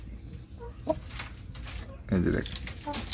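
A large hill-breed rooster on a poultry farm clucks a few times at close range, one loud squawking burst standing out, while someone talks over it.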